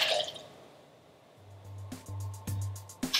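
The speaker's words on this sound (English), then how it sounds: "now you're going to add 2 ounces of lime juice" Lime juice pours into a cocktail shaker already holding ice, giving a short liquid trickle with a few wet drips and clinks, close and fairly quiet with no talk.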